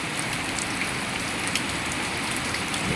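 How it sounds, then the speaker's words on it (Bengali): Rain falls steadily on surfaces outdoors, a dense, even patter of drops with no talking, continuous and fairly close throughout. "দেখেন বৃষ্টির পানিগুলো, এই যে বৃষ্টির পানি পড়তেছে।"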